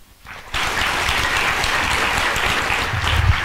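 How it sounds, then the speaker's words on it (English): After a brief quiet start, an audience at a motivational talk breaks into full, steady applause that holds loud and dense to the end, with faint low rumbles underneath. "If you like it, you can clap this."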